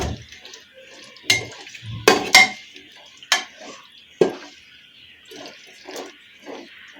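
Masala for veg biryani being stirred and sautéed in a pan over low heat, with scraping spoon strokes and metallic knocks against the pan over a faint steady sizzle.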